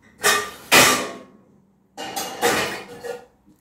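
Cooking pots, including a black pot, clatter as they are handled in a home kitchen while stuffed peppers, stuffed eggplants and cabbage rolls are prepared: two sharp, close metallic bursts followed by two softer ones, with no talking.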